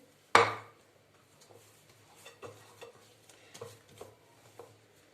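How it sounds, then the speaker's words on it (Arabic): Ghriba cookie dough being mixed in a bowl, opening with one sharp knock of spoon against bowl, then a series of soft, regular scraping and stirring strokes close by, with no talking. "ودابا غنبقى نخلط هذا الخليط ونرجع معكم ان شاء الله يا ربي."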